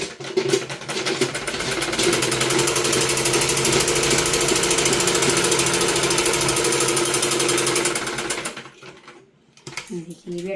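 Sewing machine stitching a sleeve onto a simple suit, running loud and close in a fast, continuous mechanical whir for several seconds, then stopping; quieter handling noises follow.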